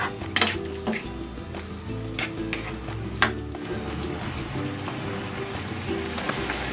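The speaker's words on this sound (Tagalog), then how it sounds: "maglalagay ako ng cornstarch na tinunaw sa tubig" Cornstarch dissolved in water is stirred into a sizzling pan of sautéed shrimp and mixed vegetables, a soft steady fry with scraping utensil strokes and a few sharp clinks against the pan.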